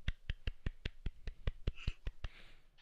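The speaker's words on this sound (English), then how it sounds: "Here's my golf clap for you." A slow golf clap on a podcast: about a dozen crisp, evenly spaced single claps, close and fairly quiet, with no talking over them.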